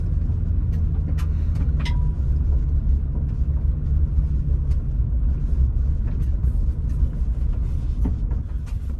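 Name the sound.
2021 Toyota Sequoia TRD Pro driving on dirt road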